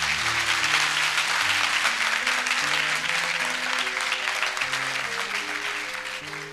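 Church congregation applauding continuously throughout, a dense steady wash of clapping over sustained organ or keyboard chords, loud and even with a slight fade toward the end.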